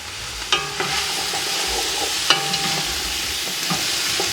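Onion and garlic fry in a soup pot with a steady close sizzle, punctuated by a few sharp scrapes and taps of a spoon stirring, and no one speaking.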